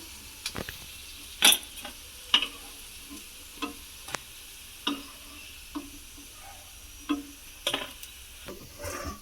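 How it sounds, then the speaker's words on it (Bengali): Potato pieces frying in a pan, heard as a low background sizzle broken by a series of sharp clicks and scrapes from stirring at irregular intervals, close and moderately quiet, with no talking. "এগুলো কিন্তু বেশ ভাজা হয়ে গেছে"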